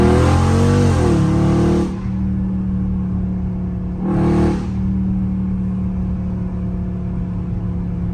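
A catless Dodge Charger Scat Pack roars loudly as it accelerates close by for about two seconds, drops off, then surges again in a brief burst before settling into a steady rumbling idle.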